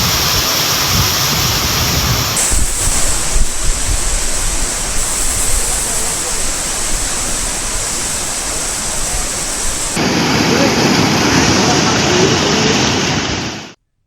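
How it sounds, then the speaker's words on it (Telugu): Vanadurga dam overflowing after heavy rain: a loud, continuous broadband roar of rushing water fills the whole clip, shifting in tone partway through before cutting off at the end. "వనదుర్గ ఆనకట్ట పొంగి పొర్లుతోంది"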